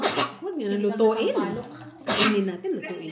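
A boy sneezes twice, two sharp, loud bursts about two seconds apart at a meal of sour foods, with people talking between and after them.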